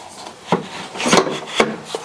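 A stabilizer bar is slid under a Sunny Health & Fitness magnetic rowing machine, giving a few short knocks and scraping rubs of hard parts meeting at close range, with no talking.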